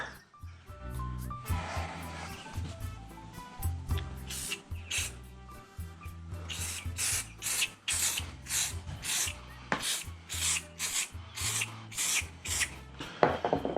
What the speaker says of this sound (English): got some silicone spray here. I'll just give it a bit of a lube up